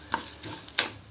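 Spices dry roasting for a Karnataka-style chicken curry, stirred in a pan, give a few brief scraping strokes with faint crackle, near and fairly quiet, with no voices.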